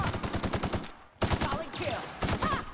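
Cannon fire in the video game The Outer Worlds, with rapid booming bursts in quick succession, broken by a brief pause before more volleys hit loud and close.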